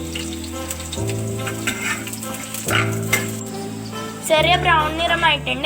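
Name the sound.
garlic and ginger frying and being stirred in a pan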